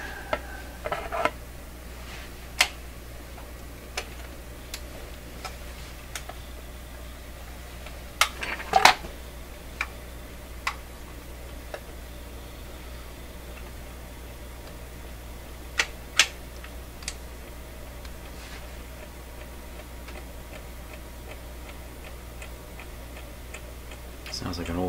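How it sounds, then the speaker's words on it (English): A Clairtone console stereo record player, with a fault, ticks irregularly in sharp mechanical clicks over a low steady hum, the clicks scattered and uneven like an old clock, close and fairly quiet. "Sounds like an old clock."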